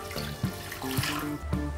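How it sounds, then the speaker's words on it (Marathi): Boiling water pours into a kadhai with a close, continuous splashing gush and a few sharper bubbling splashes, without any talking. "याच कढईत एकदम उकळतं पाणी घालायचं"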